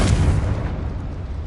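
A deep, booming blast from the Confringo blasting spell in Hogwarts Legacy hits loud and close, then rolls off into a fading low rumble with no voices over it.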